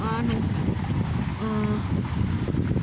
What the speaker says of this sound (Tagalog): mahangin, sobrang hangin siya guys